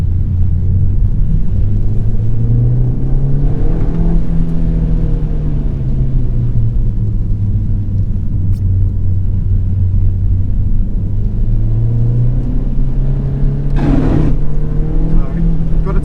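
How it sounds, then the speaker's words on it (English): Ford Fiesta ST lapping a wet racetrack in third gear on cold, wet tyres: a steady, loud engine drone with a rising and falling pitch, plus a brief burst of tyre or spray hiss near the end. "Even in third gear on these tyres that are still cold and wet, it just wants to spin and walk everywhere."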